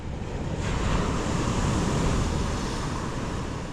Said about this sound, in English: No, it's just the waves.